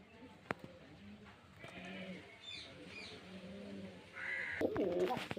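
Pigeons of a high-flying breed coo softly and low, with a few chirps and scattered bird calls over a muted, rustling background.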